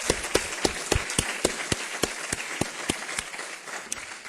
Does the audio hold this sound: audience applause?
yes